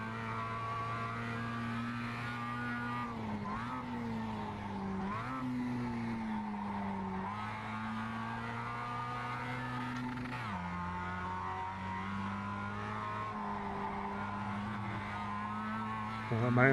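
Engine drone of a Mazda MX-5 race car in the iRacing sim at Oran Park, a steady loud tone that shifts pitch through gear changes, with tyre squeal as the car runs wide off the track; no talking over it.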